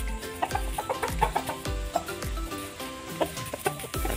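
Native Indonesian village chickens (ayam kampung) clucking in a coop, a series of short, close clucks and calls repeating irregularly over low background rumble, with no talking.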